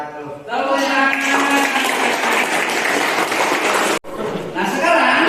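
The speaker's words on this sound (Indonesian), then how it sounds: "Tepuk tangan." Pupils in a classroom clap for a debate group, with young voices audible over the dense clapping; it cuts off abruptly near the end, then resumes briefly.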